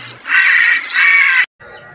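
Crows caw as a sound effect in a Tagalog audio drama, two long harsh calls close together followed by a fainter one after a brief gap.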